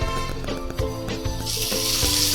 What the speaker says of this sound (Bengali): এবার মাছগুলো আমি এক এক করে তেলের মধ্যে দিয়ে দেবো।